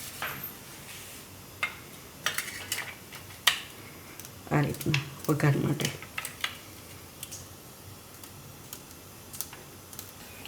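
A knife chops garlic on a board in a Gujarati home kitchen, sounding as a few sharp, irregular ticks and a quick cluster of taps midway, while someone speaks briefly.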